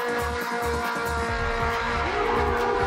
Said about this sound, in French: pendant que la voiture dérape seule